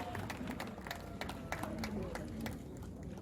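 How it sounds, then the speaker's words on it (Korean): An audience at a patriotic gathering claps to welcome a singer, a quiet, steady patter of hands with murmuring voices mixed in. "큰 박수로 환영해 주시기 바랍니다"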